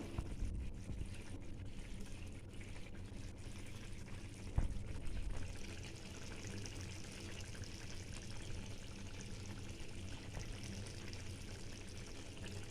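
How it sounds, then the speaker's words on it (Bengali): Small mola fish tipped into a simmering potato and ridge gourd curry in a pan, with a steady bubbling, hissing wash throughout and one brief splashy thump near the middle. "এরপর আমি মাছগুলো দিয়ে দেবো।"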